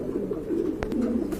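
Pigeons at a large pigeon farm coo in a continuous low rolling murmur, with a couple of sharp brief knocks or wing flaps cutting through near the middle.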